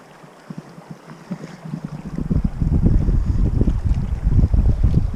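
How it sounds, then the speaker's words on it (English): Wind gusting beside the Madison River channels near Ennis, Montana, rising from quiet buffeting to steady loud rumbling microphone wind noise that fills the second half. "It is a little bit windy today."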